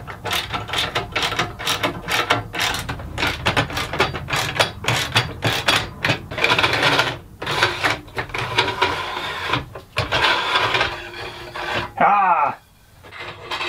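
A side piece slides along the T-track of an Alaskan chainsaw mill, making close, repeated scraping, rasping and ratcheting metal clicks in irregular bursts, with a brief squeak near the end.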